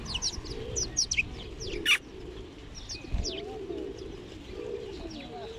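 Sparrows, great tits and blue tits give scattered short, high chirps at varying distances, with soft dove-like cooing running underneath and a brief flutter of wings midway.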